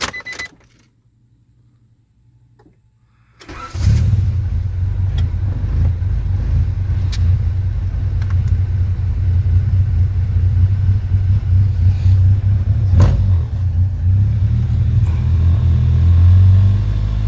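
After a valve and timing belt check, a car engine cranks and catches following a few quiet seconds of faint clinks. It settles into a steady, close idle rumble that swells slightly toward the end.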